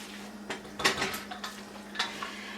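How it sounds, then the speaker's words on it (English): A spoon scraping and clinking against a bowl while Persian rice is stirred, several irregular taps and scrapes over a faint steady hum. "Just gonna give it another final stir."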